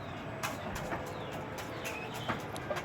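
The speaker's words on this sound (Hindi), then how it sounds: "ये देखें गाइस मुर्गी करीब आ गई, बिल्कुल अखरोट उठा उठा के खा रही है।" Soft, irregular clucks and pecking sounds from a nearby chicken eating walnuts over a steady outdoor background hum, with a few sharper taps near the end.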